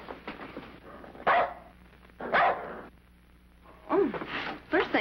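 A dog barks several times in short, loud bursts, mixed with people talking in an old radio drama set around a casino.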